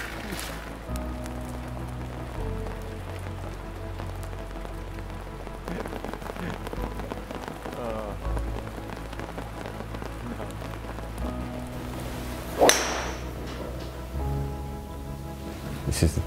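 Rain patters steadily across a golf course, a constant close pattering with a brief louder rustle near the end. No one speaks.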